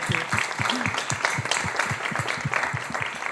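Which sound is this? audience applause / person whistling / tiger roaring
audience applause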